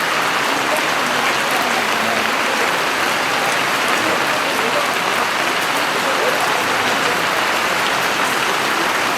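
Heavy monsoon rain pours steadily onto surfaces, a dense, loud, unbroken hiss of drops close at hand for the whole stretch.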